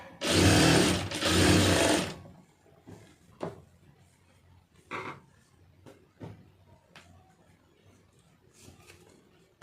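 A sewing machine stitches the folded hem of a blouse lining in two loud, close bursts of about a second each, followed by softer handling clicks and taps of fabric and parts.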